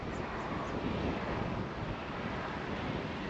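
Steady wind rushes and buffets across the microphone while fishing at Cockle Creek, Speers Point, a continuous broadband roar with no pauses, heard alone without talk.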